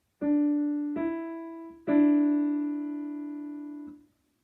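Three plucked, piano-like notes ring out in sequence forming a major second interval, two short ones followed by a longer sustained tone that fades away, played alone with no talking.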